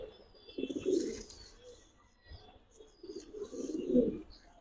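Pigeons in a small rooftop cage give two clear bursts of low cooing close up, with a quiet gap between them and faint background noise.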